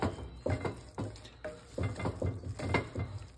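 Ground meat for a butcher-shop Bolognese stirred in a pan: a string of close, uneven scrapes and clanks of a utensil against metal with soft wet sizzle between strokes, alone without talk.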